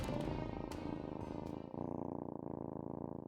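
A cat purrs in the medieval video game Choice of Life: Middle Ages 2, a steady, close rumbling hum with a few faint clicks, heard alone.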